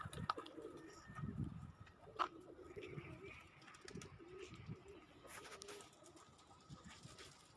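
Pigeons coo softly and fairly far off, with low murmuring calls scattered over several seconds amid faint background rustling and a few brief knocks.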